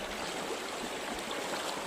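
A river flows steadily during a crossing on foot in cold-season wilderness, a soft, even rush of running water, fairly quiet and unbroken, with no talking.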